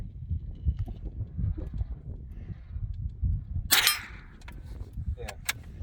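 A CCI Quiet .22lr round fired at a steel target outdoors, heard as one sharp crack followed by a ringing metallic ping and a couple of brief clicks, standing out clearly above steady low wind rumble.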